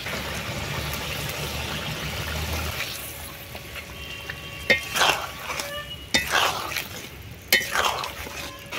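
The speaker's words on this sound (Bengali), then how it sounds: "ঝোল ফুটে গেছে, এবার দিয়ে দেবো বাটা মশলা" Fish curry gravy with potatoes and pointed gourd simmers in a pot as ground spice paste goes in: a low bubbling hum at first, then wet stirring, sloshing and a few sharp clinks of a spoon against the pot.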